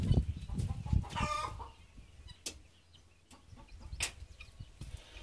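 Chickens clucking inside a chicken coop on a homestead, with scattered clucks and bird calls over low rustling and handling noise, moderately close.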